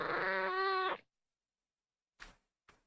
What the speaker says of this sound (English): Why did you make a cat noise?